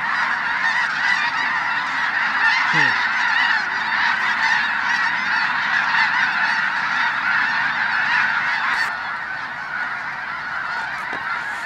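A massive flock of Ross's geese in a North Dakota field honks continuously, a dense, loud wall of overlapping calls that barely varies over the whole stretch, with no talking.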